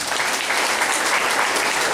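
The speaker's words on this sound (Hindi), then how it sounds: "ताली।" A large audience at a Safe Shop direct-selling program claps loudly and continuously, a thick, even roar of many hands filling the hall with no voices on top.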